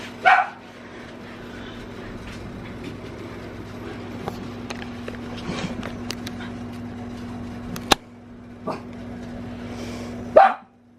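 A dog barks a few sharp times, at the start and again near the end, over a quiet background hum.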